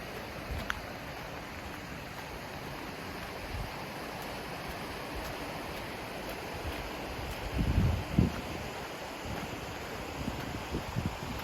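A creek beside a walking path gives a steady, fairly quiet wash of flowing water with a few soft bumps and knocks near the end.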